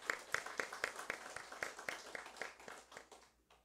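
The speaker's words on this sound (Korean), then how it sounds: "우리 하나님께 영광의 박수 올려드리겠습니다." A church congregation claps in praise, a fairly distinct rhythmic series of about a dozen claps with a slight swell and fade, heard close and clear before it tapers off at the end.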